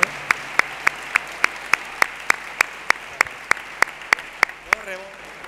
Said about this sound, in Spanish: uno de los aplausos más fuertes, tenemos que dárselo aquí al alma mater de esta estructura